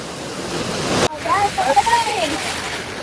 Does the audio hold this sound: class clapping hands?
no